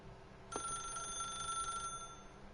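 A telephone ringing in the video game The Stanley Parable, a single bright electronic trill that starts abruptly and holds steady for over a second before cutting off, set against quiet background hum.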